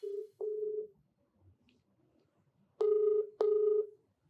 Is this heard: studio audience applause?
no